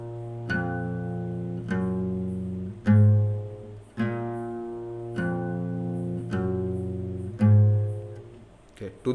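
Fingerstyle guitar picking a melody over open-string bass notes, plucked notes ringing out one after another at an even, unhurried pace, close and solo with no talking.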